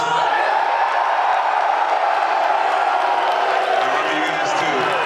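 A crowd at a UFC 285 press conference in Las Vegas cheers and whoops loudly, a continuous roar of voices with scattered clapping throughout.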